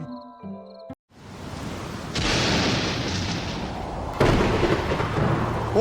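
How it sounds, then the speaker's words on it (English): Thunderstorm in the Adventure Time cartoon: after a short musical bit and a brief silence, a roaring wall of rain and rumble rises in two loud surges, like thunder breaking. "Oh my God, it's a crazy storm!"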